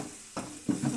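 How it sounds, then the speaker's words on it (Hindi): Chopped ginger and garlic fry in hot cooking oil with a soft sizzle, and quick stirring strokes scrape the pan at close range. No one speaks. "इसको हम थोड़ा सा फ्राई करेंगे।"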